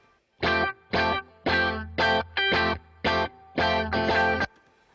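Distorted electric guitar played in Logic Pro, with light drive and added hum and hiss, strikes a run of separate chords in an uneven rhythm, each ringing briefly before cutting off, with a faint hiss between them.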